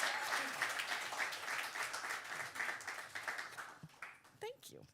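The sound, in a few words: audience applause at poetry night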